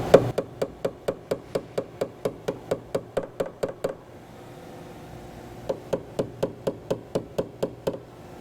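A hammer gives quick, even taps to high spots on damaged car frame metal, about twenty sharp metallic knocks in a steady rhythm, a pause, then another short run of similar taps.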